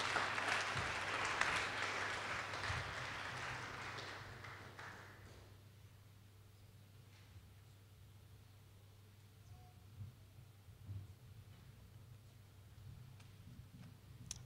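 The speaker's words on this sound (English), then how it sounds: "So let's give her a round of applause." Dense applause from a crowd at a graduation ceremony fills the first five seconds, then fades into a quiet room with scattered faint noises.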